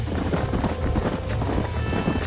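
Horses galloping in the Red Dead Redemption video game, a dense rapid patter of hoofbeats close and continuous under wind noise, with no talk.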